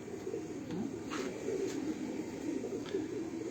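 Pigeons kept by Kashmiri pigeon fanciers coo in low, soft, repeated throaty calls, close and continuous over a faint background hiss.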